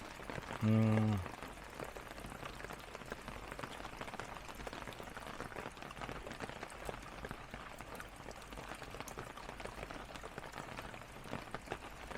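Heavy rain drums steadily on the outside of a Land Rover Discovery 4 during car camping at a campground in Namyangju, a dense constant patter heard from inside the vehicle, with a short loud burst near the start.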